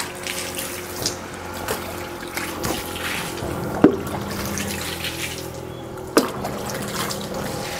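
Water in a small pool on a balcony trickles and laps gently and steadily, with two brief sharper splashes standing out near the middle and end.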